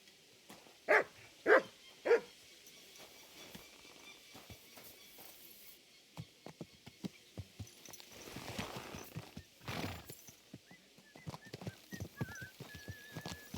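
A horse's hooves clip-clop at a riding pace in the medieval video game Kingdom Come: Deliverance II. Three sharper cries come first, then steady, moderately faint hoofbeats continue throughout.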